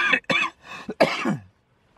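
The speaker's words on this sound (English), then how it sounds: "I've had a really bad cough for quite a while now" A person coughs several times in short bursts: three or four close, raspy coughs, a brief pause, then a final harsher cough that trails off into silence.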